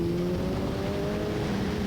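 FR Americas open-wheel race cars at New Jersey Motorsports Park, a steady loud engine drone with a sustained high tone, continuous and unbroken over the short stretch.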